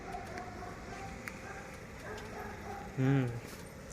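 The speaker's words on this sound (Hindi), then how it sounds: "डॉग भौंक रहा है" A single short dog bark rings out near the end, over steady street and traffic noise.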